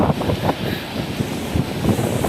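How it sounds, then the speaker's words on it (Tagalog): Strong typhoon wind buffets the microphone outdoors, a loud continuous roaring rush with gusty surges throughout. "Ang lakas pa ng hangin."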